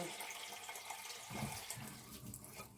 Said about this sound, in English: I'm just running some hot water